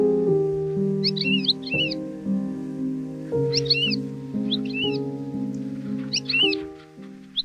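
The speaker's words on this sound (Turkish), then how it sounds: "Ötüşünü çok sevdiğim bir grup toygarlar." Bright, fluttering lark song bursts in short repeated phrases over a steady sustained drone of low tones, the calls coming in separate clusters.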